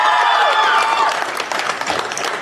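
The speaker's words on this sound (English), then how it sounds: "Can we all clap for everyone?" Audience clapping at a hackathon as participants step onto the stage, loud and dense at first with a tonal hum underneath, then thinning slightly while the crowd keeps applauding.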